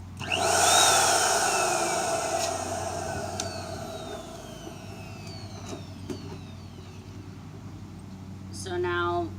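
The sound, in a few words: electric balloon inflator machine running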